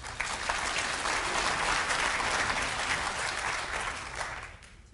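Audience at a talk on critical thinking in STEM claps steadily to welcome two speakers, a dense, even wash of applause that holds for several seconds and then tapers off.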